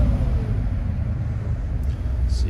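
A 1977 Ford Bronco's fuel-injected Blueprint 302 crate engine idles with a smooth, even low rumble heard nearby, and a faint brief click comes near the end.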